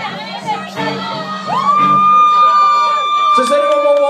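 Crowd at a live gig by The News shouting and cheering. Loud overlapping yells and whoops carry on throughout, with a sustained ringing tone above them.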